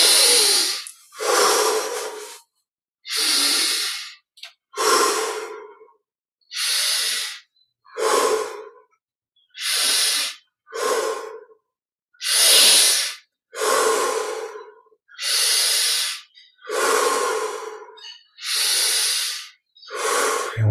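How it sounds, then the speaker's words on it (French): Deep breathing during a guided Yogoda energy meditation, about fourteen slow, loud breath cycles in even rhythm, each a rushing, airy inhale or exhale close to the mic, separated by short silent pauses. "20 respirations profondes. Inspire par le nez,"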